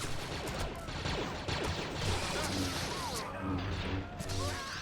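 Enemy blaster fire and impacts in Star Wars: The Force Unleashed crackle in quick bursts and thuds amid a busy battle mix with tonal game effects, while a voice speaks over parts of it.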